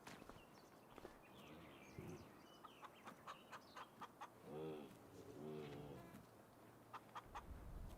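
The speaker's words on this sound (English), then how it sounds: "By the chickens, so they're a bit noisy." Chickens clucking in the farm game Farming Simulator 25, a string of short clucks and a couple of longer calls over soft footstep-like taps, moderately loud and close.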